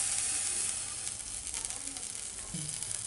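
Butter sizzles steadily in a hot frying pan, a dense, even hiss with soft crackles throughout, close and continuous with no voices.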